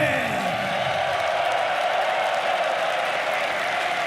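A large esports crowd at The International 2024 claps and cheers for Boxy and Team Liquid, a steady, dense roar of applause that carries on through the whole stretch.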